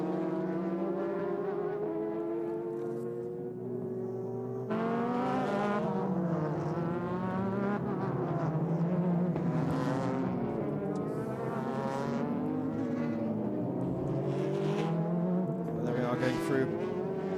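Super GT race cars, including one powered by a 3.4-litre Honda V6, roar around the Okayama circuit in a 2006 race, engines whining and shifting pitch continuously beneath English commentary.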